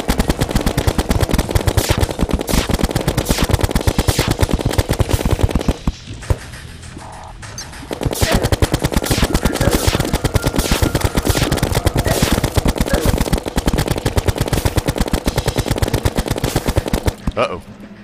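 Rapid gunfire from bullets shot in the video game Terraria, dense continuous bursts of shots with a brief pause midway before the firing resumes, loud and close.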